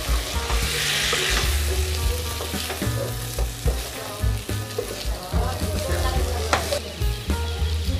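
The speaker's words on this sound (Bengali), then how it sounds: "এবার আমি ফ্রাই ভেন্ডিগুলি দিয়ে দেবো। মিক্স করবো সবকটা।" Fried okra stirred into hot spiced oil in a pan for a methi bhindi aloo sabji, giving a loud, steady sizzle with repeated scraping and clattering stir strokes throughout.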